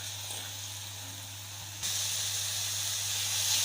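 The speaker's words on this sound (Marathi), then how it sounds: "कांदा मऊ होईपर्यंत आपल्याला असंच परतून द्यायचं आहे तेलामध्ये" Onion fries in oil for an egg masala with a steady, even hiss that grows slightly louder partway through, with no talk over it.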